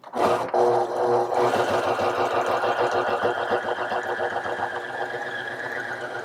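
A Necchi C35 sewing machine stitches steadily through denim jeans side-seam material down to stretch fabric, a continuous close, loud motor whir with a rapid needle chatter running throughout, alone with no talk.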